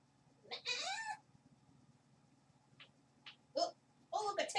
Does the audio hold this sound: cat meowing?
yes